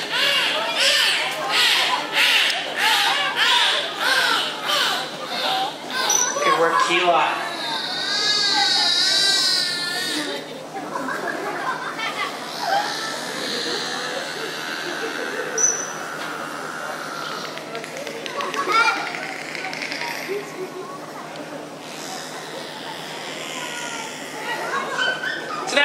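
Beluga whales at a Vancouver Aquarium show give a varied run of chirps, squeals, whistles and warbling trills, close and prominent, with a trainer's voice talking over parts of it.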